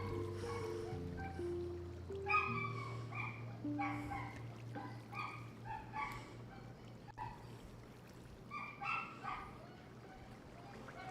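A pet dog in a room gives repeated short barks and whimpering yips in scattered bursts throughout, over a steady low hum and faint background music.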